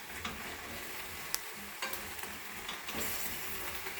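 Vegetables for a vegetable stock sizzle in oil as they are stirred in a pot, a steady frying hiss with occasional scraping clicks from the utensil, close and continuous without talk.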